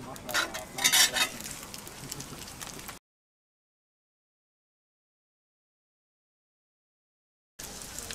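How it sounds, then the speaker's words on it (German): Burger buns toasting in a pan on a Landmann Triton 3 grill give a soft, crackling sizzle for a few seconds, then fall silent before the sizzle briefly returns. "Also langsam von jeder Seite schön anbraten."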